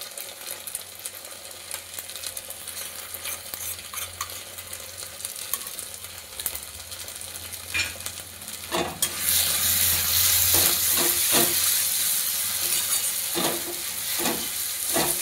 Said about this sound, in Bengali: এবারে দিচ্ছি আদা বাটা, তার সঙ্গে সরষে বাটা।